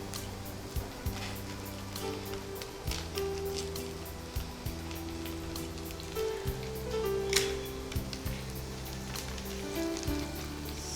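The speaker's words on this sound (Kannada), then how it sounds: "ಇದಕ್ಕಿನ್ನು ಆನಿಯನ್ ಹಾಕ್ಕೊಳ್ಳೋಣ, ಈರುಳ್ಳಿ. ಸೊ ಇದು ಒಂದು ಕಡೆ ಫ್ರೈ ಆಗ್ತಾ ಇರಲಿ" Sliced onion fries in a pan with a continuous soft sizzle and crackle, steady and close throughout, joined by scattered faint clicks and taps, with no one speaking.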